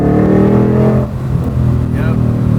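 Loud, close engine roar from a 2022 Shelby GT500 V8 that drops off after a second and settles into a lower rumble, with a brief rising whine near the end; voices are faintly present.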